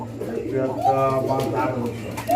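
Pigeons, including Danish birds, cooing at a pigeon farm, with low rolling coos close by under someone talking.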